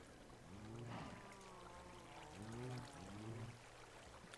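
Water poured in the Minecraft video game, heard as a soft, watery flowing and splashing sound with faint sweeping tones, quiet and alone.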